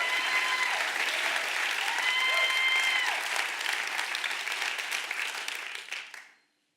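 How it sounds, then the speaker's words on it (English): A conference audience at a world forum gives a warm round of applause, dense continuous clapping from a large crowd with a few whistles and cheers, holding steady before cutting off abruptly. "warm round of applause."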